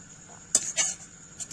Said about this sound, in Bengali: লবণ দেওয়ার পর আমি শাকটাকে ভালোভাবে নাড়িয়ে চাড়িয়ে নেব।